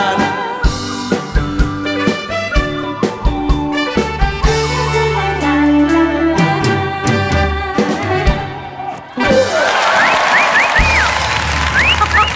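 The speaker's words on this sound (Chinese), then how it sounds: "掌声加尖叫！" A studio audience at a Taiwanese variety show bursts into loud applause and shrill screams, rising suddenly after a stretch of band music and continuing as a dense, roaring wash to the end.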